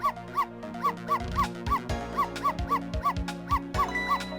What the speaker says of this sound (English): Will she hear Missile barking this time?